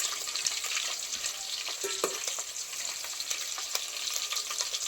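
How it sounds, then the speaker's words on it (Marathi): Curry leaves and garlic crackle in hot oil for a tempering over a wood-fired stove, a constant close sizzle with scattered pops and a few stirring scrapes, without speech. "आता फोडणीला कढीपत्ता टाकलाय आहे लसूण टाकलं"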